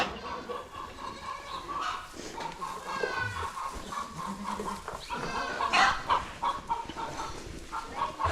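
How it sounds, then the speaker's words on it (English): A hen clucking loudly after laying an egg, a rhythmic, repeated cackle close by with other farm animal calls mixed in, steady throughout. "Chicken just laid an egg."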